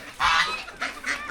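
A chicken being shooed gives a few loud squawking cries, close by and in quick bursts of about a second.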